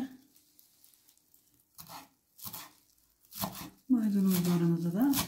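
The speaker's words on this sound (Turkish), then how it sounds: "Şöyle biraz doğrayacağız." Fresh parsley is roughly chopped with a knife on a cutting board while preparing stuffed pickles, giving a few quiet, scattered cutting taps before a person begins speaking.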